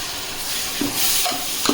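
Tomatoes tipped into sautéed onions in a pan for chicken biryani, setting off a steady close hiss of sizzling with a few scraping stirs breaking through near the end.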